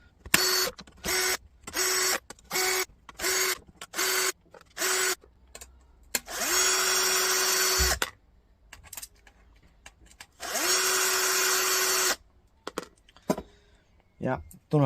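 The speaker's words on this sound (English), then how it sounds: "inside this little toolbox is a little nut remover, and lo and behold, that nut remover is for removing these." A small nut remover tool works the nuts off a Dell docking station being scrapped for parts. It gives repeated short whirring bursts close up, then two longer runs, with brief clicks and handling noise in between.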